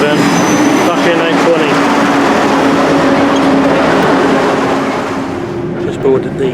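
Arriva Trains Wales Class 158 diesel multiple unit, 158-820 with 158-837, on the service to Pwllheli and Aberystwyth, gives a loud, steady rumble and drone with a sustained engine tone that eases slightly toward the end, with voices mixed in.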